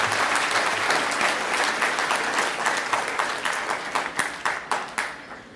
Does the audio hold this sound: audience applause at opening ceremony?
yes